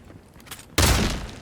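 Gunfire from the Avowed fantasy game as spiders are shot ahead of time in a dungeon: after quieter rumbling, a loud, sudden burst of shots or impacts sustains for the last half second, close and dense.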